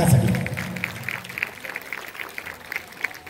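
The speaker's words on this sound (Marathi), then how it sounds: "जर हा देखावा आपल्याला भावला असेल तर एकदा खडखडीत टाळ्या होत्या चिंचगडी संघासाठी" An audience applauds a Chinchghari palkhi dance troupe at a competition, a steady wash of crowd clapping at moderate loudness with no clear speech over it.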